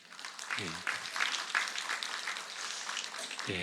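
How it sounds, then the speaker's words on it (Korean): A church congregation gives a sustained round of consoling applause for a bereaved family during Sunday worship, a soft, even patter of many hands, with brief speech at the start and end. "우리 위로의 박수 하십시다"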